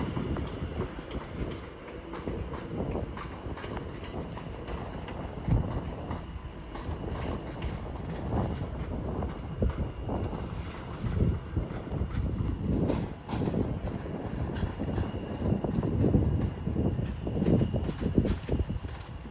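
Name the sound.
British Rail Class 730 electric train departing Watford Junction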